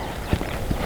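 Horse hooves clip-clop on the ground during a riding lesson, two distinct low thuds about half a second apart over steady background noise.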